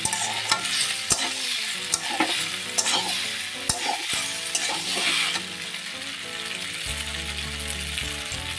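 Pasta with Maggi masala and pasta masala is stirred in a hot pan. A constant sizzle runs under repeated scraping strokes of the spoon, close and steady.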